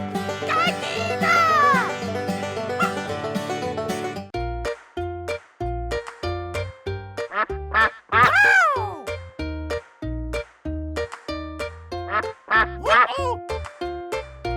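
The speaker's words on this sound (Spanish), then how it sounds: "¡Pato!" Duck quacking amid bright cartoon music in a children's animal-sounds show, with several short quacks repeating in a bouncy rhythm over the tune.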